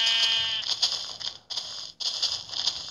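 Sheep bleating on a farm, a wavering nasal call near the start followed by a dense, noisy stretch with brief gaps, fairly close and moderately loud with no clear talk.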